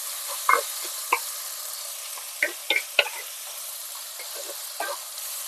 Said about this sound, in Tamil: தக்காளி நல்லா மசிகிற வரைக்கும் வேக வச்சுக்கலாம்.